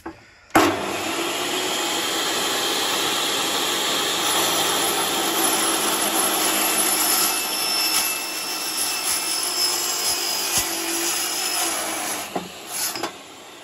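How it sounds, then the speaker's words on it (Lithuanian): An AliExpress metal cutting disc grinds steadily through a small pipe, a loud continuous whine that starts abruptly and holds for about twelve seconds before winding down, with no talking. "Pažiūrėsim, kaip vamzduką pjauna"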